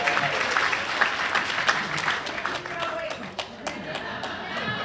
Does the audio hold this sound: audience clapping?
yes